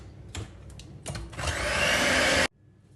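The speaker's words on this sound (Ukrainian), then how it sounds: "І зараз ми вершки будемо збивати з цукровою пудрою" Electric mixer whipping cream with powdered sugar for a banana pistachio dessert, a few short bursts at first, then a sustained loud whirring drone for about a second before it cuts off abruptly.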